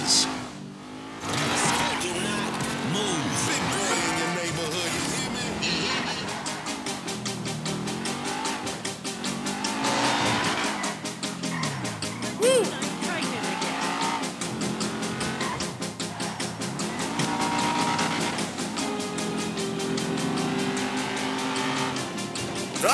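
A car drives in the Grand Theft Auto 5 video game with a steady engine drone, tire squeals and revving that run continuously for the whole stretch.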